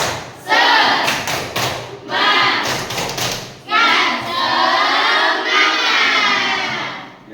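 A school class performs a 'tepuk semangat' clap chant, children clapping in sharp rhythmic bursts and shouting together in loud group chant, with short pauses between phrases.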